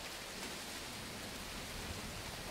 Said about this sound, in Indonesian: hujan mau turun nih ha, udah mulai